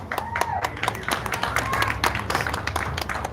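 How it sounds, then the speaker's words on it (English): Applause for fighters at a boxing press conference, a crowd clapping with busy, uneven claps close by, mixed with chatter and voices in the room. "Round of applause for them right now."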